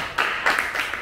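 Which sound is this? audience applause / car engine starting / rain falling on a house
audience applause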